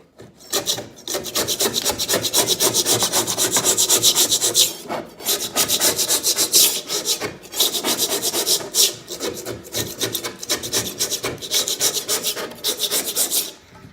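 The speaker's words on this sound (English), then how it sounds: "just with the scraper here I got, that if you just kind of come through" A hand scraper rasps old glue off the lid of a Nitro 2000DC boat, rhythmic gritty strokes repeating close and loud for several seconds with brief pauses between passes.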